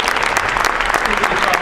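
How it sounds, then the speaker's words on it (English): Loud, close applause from a conference luncheon audience for a panel, a dense, continuous patter of many hands clapping evenly throughout without a break. "Let's give our panel a round of applause."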